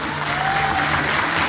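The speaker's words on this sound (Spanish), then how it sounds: "Fuerte el aplauso entonces para la señora Isabel." Audience at the Miss Mundo Chile 2019 final in Calama breaks into steady, dense applause, a broad wash of clapping filling the whole moment without pause.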